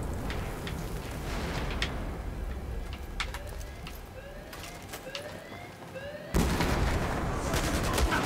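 Gunfire in Battlefield 4 multiplayer Rush on Dawnbreaker, a run of sharp shots crackling amid constant battle noise, ending in a sudden loud burst of noise.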